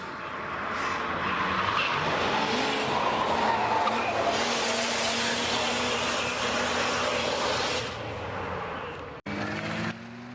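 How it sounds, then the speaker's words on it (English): SUVs race around a turn at a Gambler 500 event in New York, their engines roaring in a sustained, loud, whooshing drone that swells and fades, then cuts abruptly before a short final burst. "Then we had a sketchy SUV race"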